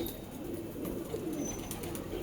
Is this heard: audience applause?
no